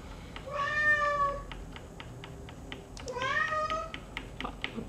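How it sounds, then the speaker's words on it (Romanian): A cat meows twice, two long drawn-out cries a few seconds apart, heard over steady clicking of a computer keyboard with no speech. "Pisica nebună, Abin, ți-am dat mâncare"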